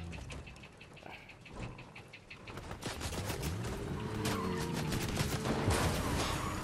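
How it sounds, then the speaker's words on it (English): In a video game, bursts of gunfire crackle in rapid fusillades, starting sparse and building into dense, sustained volleys that fill most of the stretch, with no talk over them. "They hear that gunfire, they'll think that might be you."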